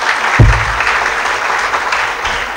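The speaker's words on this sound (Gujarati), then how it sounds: "એમને જોરદાર તાળીઓથી વધાવી" Audience applause breaks out at a Surat lecture about Sardar Vallabhbhai Patel, a steady wash of clapping from a crowd, fairly loud, with a low thump near the start and no talk over it.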